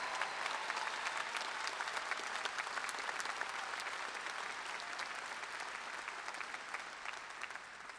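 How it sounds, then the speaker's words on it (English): Steady applause from a large crowd at a university commencement ceremony fills the whole stretch, even and sustained, heard from some distance. "A round of applause for these graduates."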